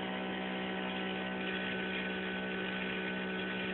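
A steady electric motor driving a generator prototype drones with a constant low hum and whir, unchanging and continuous throughout, with no voices.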